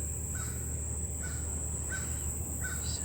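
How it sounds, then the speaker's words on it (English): A crow caws four times in a steady, evenly spaced series from a distance outdoors, over a constant high insect buzz and faint background hum. "No, that's a crow."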